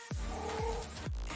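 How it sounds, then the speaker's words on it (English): Oliver the cat lets out a couple of loud, close meows, each a short drawn-out cry, in a room with steady background hum. "He doesn't normally just randomly meow like that."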